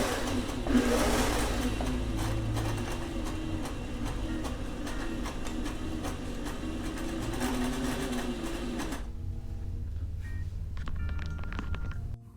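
A sewing machine stitching lace onto a georgette nightgown, a fast steady whirring run for most of the clip, then stopping, followed by a few faint clicks and handling sounds.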